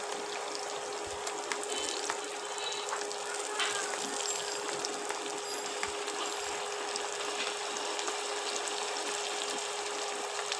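Steady sizzling of tomato, ginger, chilli, garlic and onion paste frying in a pan for mutton curry, with small crackles and pops scattered throughout and no voices.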